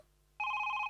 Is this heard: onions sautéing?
no